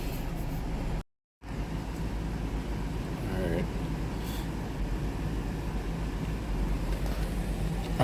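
Dodge 3.6 engine idling steadily after a spark plug replacement and intake manifold removal, a constant low rumble with a brief dropout early on, heard close by.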